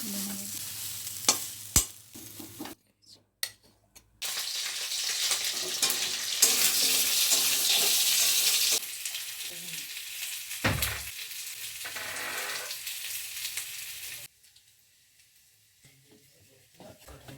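Steady sizzling of pea-filled kachoris frying in hot oil, with stirring scrapes, broken by a few quiet gaps and fading out near the end.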